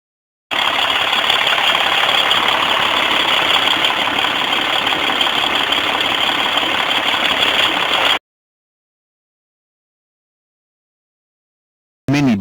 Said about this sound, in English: Milk truck.